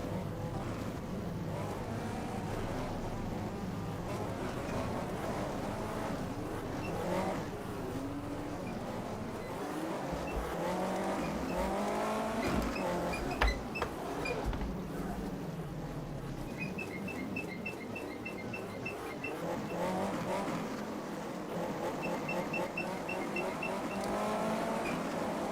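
Unlimited National Banger racing cars roll around the track on a rolling start, their engines droning and revving together, with a few louder, closer passes.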